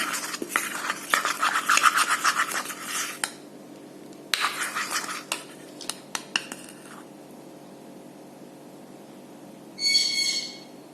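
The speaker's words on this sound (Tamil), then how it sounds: "கொஞ்சம் கொஞ்சமாக ஊற்றி மிக்ஸ் பண்ணணும். நல்லா பீட் பண்ணிக்கணும்." Icing sugar and milk, for cinnamon buns, stirred and beaten in a bowl: uneven bursts of scraping and clinking that pause, then resume, ending in a short, brighter rattle.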